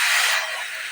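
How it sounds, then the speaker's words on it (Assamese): Half a litre of milk poured into a hot pan for an Assamese sweet, giving a loud, close, steady hissing sizzle that eases slightly after the first moment, with no voices. "এতিয়া মই ইয়াতে দি দিম গাখীৰ আধা লিটাৰ।"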